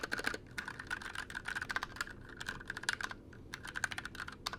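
Typing on a 60% keyboard with very tactile switches: rapid, crisp clacks in uneven bursts with a short pause midway, close and fairly quiet, no talking.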